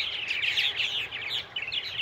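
A dense chorus of chirps and twittering from a colony of sub-adult purple martins, overlapping calls layered continuously and fairly close, with no talking.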